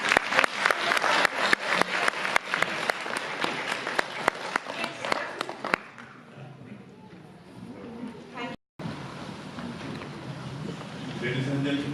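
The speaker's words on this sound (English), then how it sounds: "So round of applause, please." An audience at a winter music festival gives a round of applause, with sharp, separate claps ringing out for several seconds before dying away into quieter room sound and voices.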